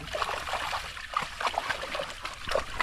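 River water trickles and splashes nearby in a steady, moderately quiet babble with small irregular gurgles, and no talk over it.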